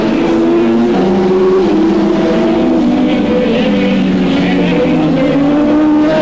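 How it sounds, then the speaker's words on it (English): Racing motorcycles at speed during a 1987 Swann Series race at Calder Park, one bike around 1,000 cc, their engines droning and shifting pitch continuously, loud and close, with no pause throughout. "And Campbell really working the bike as he comes over the top of the hill."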